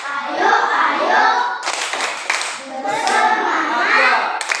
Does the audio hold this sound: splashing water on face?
no